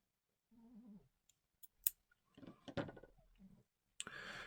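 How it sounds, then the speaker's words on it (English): Scissors snipping helper yarn on a knooked double knit earwarmer: a few soft, crisp cuts and clicks, close but faint, in a quiet room with no talking. "I will just cut my helper yarn"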